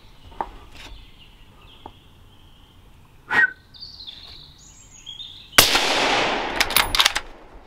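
Quiet outdoor ambience with a few bird calls during a roe deer hunt, then one sharp, loud rifle shot that rings out and fades with a rolling echo.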